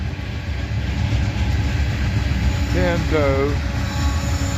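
A freight train's distributed power unit locomotive rolls past with a continuous low rumble of wheels on rail, and a brief squeal comes partway through. A person speaks a single word.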